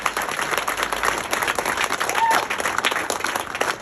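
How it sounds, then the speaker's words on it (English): An audience at a Navy Chiefs event gives a steady, moderately loud round of applause, dense overlapping hand claps continuing without pause for several seconds. "A hearty round of applause for these 4 Chiefs."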